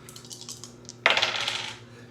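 A pair of dice tumbles across a board in the Horrified tabletop game, a bright rattling clatter that bursts up close and dies away over about half a second after faint handling taps.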